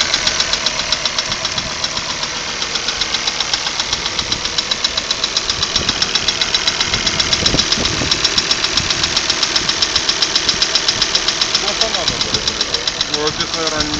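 Cold car engine running with a steady, rapid knocking tapping throughout, a dense mechanical rattle over the engine hum at close range, with people talking faintly under it.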